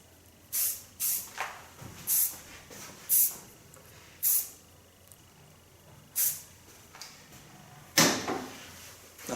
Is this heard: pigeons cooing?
no